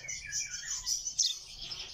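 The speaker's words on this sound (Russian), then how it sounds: "Чирикают скучают по маме" Chaffinch chicks chirp with high, thin calls that come in a quick, restless string, close by and fairly soft, with no other sound.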